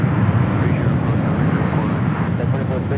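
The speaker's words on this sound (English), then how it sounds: "we do have United Airlines at 1855 heading to Newark, a 787-9 Dreamliner up next" A United Airlines Boeing 787-9 Dreamliner bound for Newark roars with a loud, steady jet engine rumble at Los Angeles airport, a broad continuous wash of sound that stays close and unbroken throughout.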